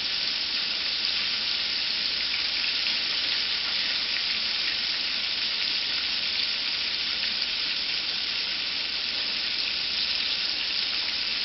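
Cube steak frying in vegetable oil, a steady dense crackling sizzle that holds even and loud throughout with no pauses.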